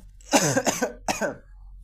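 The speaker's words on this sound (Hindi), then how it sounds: "बहुत ज़्यादा मुझे खांसी है" A person coughs three times in quick succession, hoarse and close, with a brief pause before the last cough.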